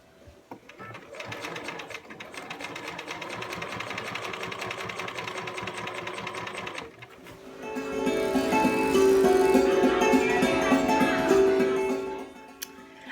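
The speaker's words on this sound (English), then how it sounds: "So we're just going to stitch in the ditch." A sewing machine stitches in the ditch through quilt layers, running in two long, steady bursts with a brief pause between them. The second burst is louder and faster.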